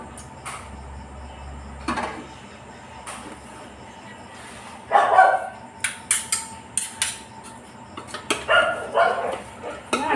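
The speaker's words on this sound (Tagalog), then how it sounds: "maingay na naman yung mga aso" Neighbours' dogs barking late at night near a home garden, scattered sharp barks and yips in bursts, growing busier in the second half, with a quiet background and a soft creak early on.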